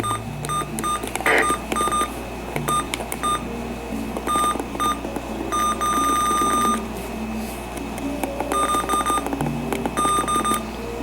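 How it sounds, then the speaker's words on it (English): A RunningSnail MD319 weather radio sounds its alert tones: repeated bursts of sharp electronic beeps in an irregular on-off pattern over a faint background hum, with no voices. "it does have a lot of useful alerts that you can disable."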